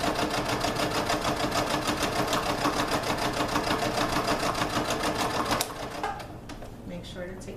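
A sewing machine runs a straight stitch on a tote bag with a fast, even, rattling pulse. It stops abruptly after about five and a half seconds, and soft handling noises follow.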